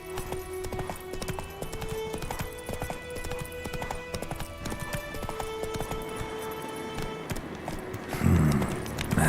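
A horse gallops in The Witcher 3 Wild Hunt next-gen update, with steady clip-clop hoofbeats running throughout over game music and ambience. Near the end the hooves are briefly covered by a louder burst.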